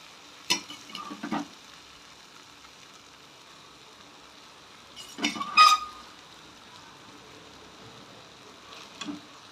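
Cooked rice being stirred into a tomato rice mixture in a pan, heard as a few short scraping, stirring bursts spaced apart over quiet background, with no talking.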